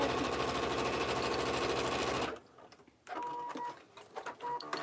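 A sewing machine stitches rapidly down the side of a belt bag, a dense mechanical chatter for about two seconds, then stops, followed by faint handling noises and light clicks.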